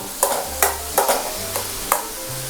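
Sliced onions frying in a pan for a Mughlai chicken curry, with a soft continuous sizzle broken by five sharp scraping knocks of a spatula stirring, close and fairly loud, no talking.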